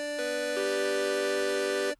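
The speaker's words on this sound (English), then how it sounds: "This is a very, very slept on synth that is actually in the default synths of Serum." A bright synthesizer tone from Serum's default presets holds a steady chord for about two seconds, stepping slightly in pitch early on before cutting off cleanly.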